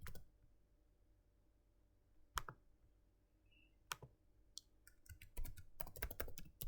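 Typing on a computer keyboard, heard as sparse single key clicks at first, then quicker bursts of close, crisp keystrokes toward the end against a quiet room.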